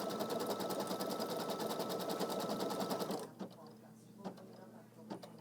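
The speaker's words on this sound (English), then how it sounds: "So that stitches all the way around, shows me where I'm going to place this batting on here." A Kimberbell embroidery machine runs a steady, fast stitching rhythm while sewing a placement line for batting, then stops partway through; a few faint clicks and light handling noises follow in near silence.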